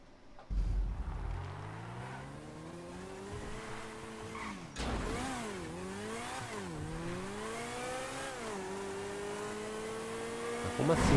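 An Infiniti race car in a GTA V Online race revs and accelerates hard, its engine note climbing and dropping through gear shifts, with tire squeal and another car nearby, loud and continuous.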